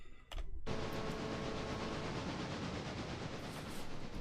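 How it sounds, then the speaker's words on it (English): Model trains running on a model railway layout, a steady close rattle and clicking of wheels over track after a brief sharp clatter at the start, with no talk. "Hopefully you can hear me over the trains"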